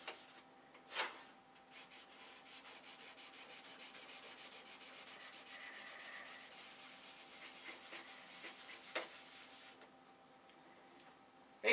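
Hand sanding of a wooden piece being readied for two coats of white paint, a steady close rasping scrub in rapid repeated strokes lasting about ten seconds, then a brief quieter pause with a faint knock.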